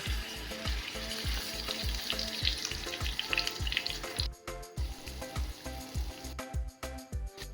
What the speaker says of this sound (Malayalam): മീനൊന്ന് ഫ്രൈ ചെയ്തെടുക്കാം.